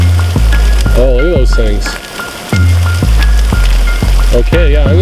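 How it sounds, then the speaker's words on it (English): On a hike near Gladstone, Peachland, British Columbia, hail falls with a constant loud patter and sizzle of ice striking the ground and gear. A person talks over it. "Oh, the hail's getting bigger."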